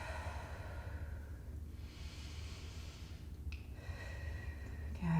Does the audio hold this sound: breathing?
yes